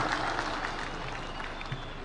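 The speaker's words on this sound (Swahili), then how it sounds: "wapi makofi ya mama Prime Minister wa kutoka Mozambique jameni" Applause from a stadium crowd at a national Mashujaa Day celebration in Kitui, Kenya, a steady wash of clapping that holds evenly at moderate loudness throughout, with no voices standing out.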